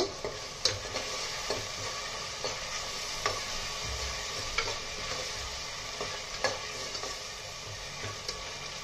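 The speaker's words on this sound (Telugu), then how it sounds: "దీనిలోనే కరివేపాకు వేసేస్తున్నానండి, 2 రెమ్మల కరివేపాకు" Curry leaves frying in oil in a pan for raw mango chicken, a continuous soft sizzle broken by regular scraping clicks of a spoon stirring every second or so.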